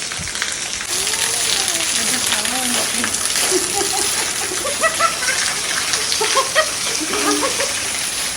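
Steady rain pours down outdoors around a home and lane, a continuous broadband hiss that starts after a brief moment and carries on throughout, with people talking over it.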